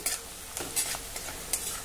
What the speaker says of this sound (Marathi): हा कांदा आपण आता थोडा हलका तांबूस रंगाचा होईपर्यंत परतून घेऊ।